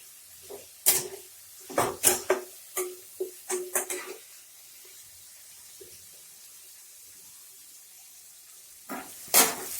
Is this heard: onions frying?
yes